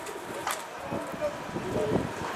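A pigeon coos softly a few times outdoors amid wind and faint background noise, the short calls brief and not far off.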